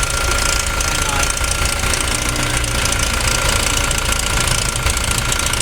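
Toyota Revo pickup engine running with a rattling, knocking noise suspected to come from the timing chain, a dense continuous clatter recorded up close and loud, with no clear talking over it.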